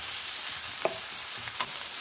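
Onions frying in a pan, a soft steady sizzle with a few brief scrapes of stirring, fairly quiet and without voices.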